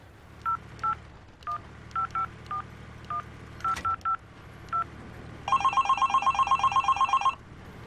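A series of telephone keypad tones beep out a number in uneven bursts, then a phone rings on the other end with a rapid, bright warbling trill lasting about two seconds.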